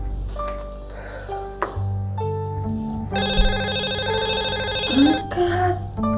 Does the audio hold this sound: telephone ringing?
yes